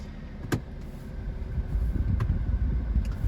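A BMW 435d M Sport Gran Coupe diesel engine starts up with a click and a brief whir, then settles into a low, steady idle rumble heard from inside the car.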